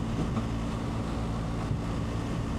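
Strong wind roars steadily across a microphone on a motorcycle crossing a viaduct, a dense, continuous rush with low rumble and no pauses.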